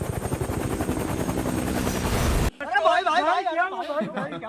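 A movie helicopter's rotor thumps loudly and continuously for a couple of seconds, then cuts off abruptly as a voice begins speaking.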